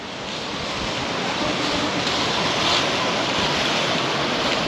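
Steady wind and surf on a sunny Spanish coast in January, a continuous loud roar of waves with wind buffeting the microphone, no clear speech.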